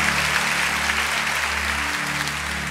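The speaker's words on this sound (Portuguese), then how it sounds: "Aplauda o Senhor." Steady crowd clapping from a church youth conference congregation runs continuously beneath a low held organ-like drone, with no voices over it.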